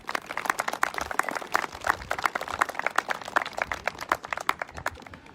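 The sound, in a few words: audience applause at the Capitol Christmas tree ceremony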